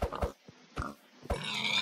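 A pig in the Minecraft video game gives several short, close oinks in quick bursts, with brief pauses between grunts and a longer squeal-like run at the end.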